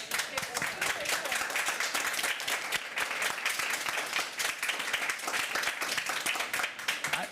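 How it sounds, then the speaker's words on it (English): An audience at a Davos conference on Ukraine gives a sustained round of applause, a dense steady patter of clapping lasting several seconds with some voices underneath. "I'd ask for a round of applause for these people"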